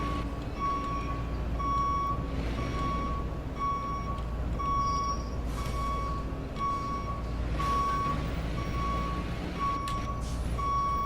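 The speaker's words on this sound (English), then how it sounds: "this one seems to be stuck, making the backup noise" A fire truck's reversal alarm beeps on and off in a steady, evenly spaced rhythm in the EmergeNYC driving game. It is stuck on and sounds over a constant low engine rumble, with no talking.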